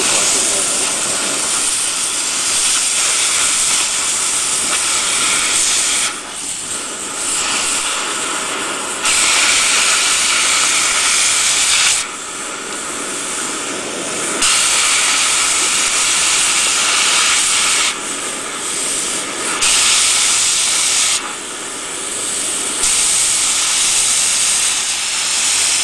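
An oxygen-fed cutting torch flame roars and hisses loudly and steadily at close range, with brief dips and surges in its rush as the flame is adjusted or moved.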